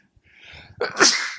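A person sneezes once, a brief indrawn breath building into a sharp, loud burst at close range, with nothing else around it.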